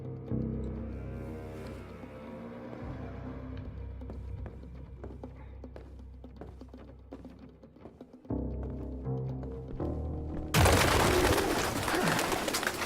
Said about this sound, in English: Rock pigeons.